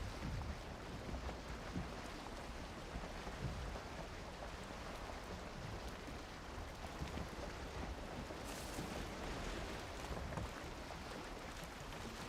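A boat sails through open water in the Valheim video game, with a steady, continuous wash of water and rain-like hiss lasting throughout, fairly quiet and without talk.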